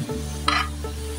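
A spatula stirs veg fried rice with sauces in a hot pan, making a short scraping stir over a steady sizzle, close and clear with no talking.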